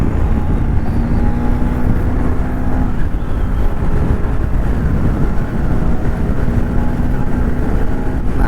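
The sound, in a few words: Bajaj Pulsar NS200 motorcycle accelerating hard on a flyover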